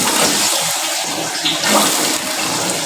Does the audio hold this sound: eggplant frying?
no